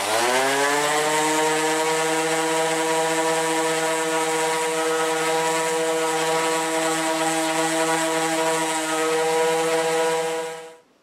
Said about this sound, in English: So I'm not rocking the sander like this, I'm just holding it straight at 45 degrees.